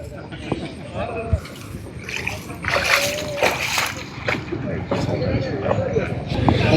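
Fish splash and slosh in the water in irregular bursts, close by, with a voice talking over it, at a canal in Mullaitivu.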